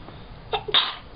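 Two quick human sneezes, the second louder and sharper than the first, close by in a quiet room during a fractions math game.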